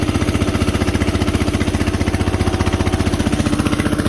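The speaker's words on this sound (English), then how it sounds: "Listen to the motor." An Onan DJA/DJB/DJC generator engine runs under load, a close, loud and rapid regular chugging pulse with steady rhythm and no change in pace.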